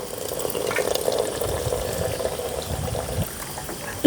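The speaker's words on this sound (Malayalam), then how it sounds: "നമ്മൾ ഈ നൂഡിൽസിനെ ഈ പച്ചവെള്ളത്തിലിട്ടിട്ട് തണുത്ത വെള്ളത്തിലിട്ടിട്ട് ഒന്നുകൂടി ഒന്ന് കഴുകിയെടുക്കുന്നുണ്ട്" Boiled hakka noodles being rinsed in cold water and drained, a steady close wash of running and splashing water with soft sloshing, ending in a brief louder knock.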